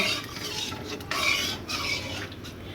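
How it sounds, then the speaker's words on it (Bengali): Lentils with turmeric stirred in a pot, heard as close, repeated scraping and rubbing strokes of a spoon against the metal over a faint sizzle, with no voices. "হলুদটা দেওয়ার পর একটু ভালো করে ভালো করে নাড়াচাড়া করে নেব"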